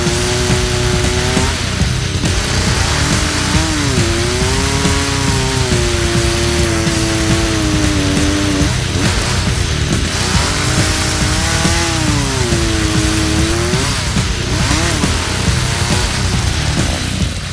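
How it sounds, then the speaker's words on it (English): A chainsaw cuts a notch in timber, running loud and close for the whole stretch, its pitch sagging under load during cuts and rising again between them. "then I use my chainsaw, and I cut out the notch"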